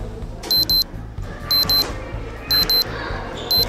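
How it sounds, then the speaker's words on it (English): A phone alarm rings loudly and close, repeating paired beeping bursts about once per second over a steady low background hum. "Sorry, that's my phone alarm."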